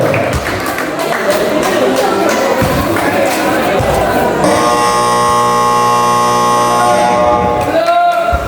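A long, steady electronic buzzer blares over a noisy crowd in a gym, with talk and cheering around it.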